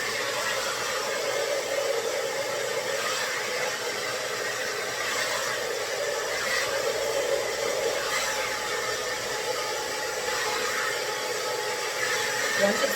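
A hair dryer blows steadily on medium heat with an even, breathy whoosh that holds at a constant level throughout.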